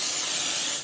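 A short, loud, close hiss as pixie spray is sprayed from a can onto a bee-themed stencil, one continuous burst that stops abruptly.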